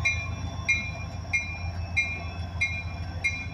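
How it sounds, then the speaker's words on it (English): A train rolls past at moderate distance, a low steady rumble with regular rhythmic wheel clicks and faint metallic squeals repeating about every two-thirds of a second. "the train rolling by sounds"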